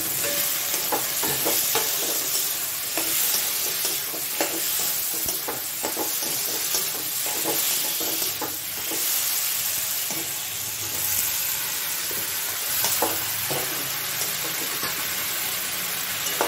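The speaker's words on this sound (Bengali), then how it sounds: "মশলাটার সঙ্গে ভালো করে একটু কষিয়ে নেব।" Jackfruit, potato and prawns fry in spice paste in a pan, giving a steady close sizzle broken by scraping stirs.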